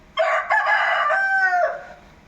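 A rooster crows once, loud and close, in a yard at dawn feeding time, a drawn-out cock-a-doodle-doo lasting about a second and a half with no voices over it.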